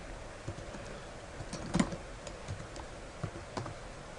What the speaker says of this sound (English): And I'll type two different things here.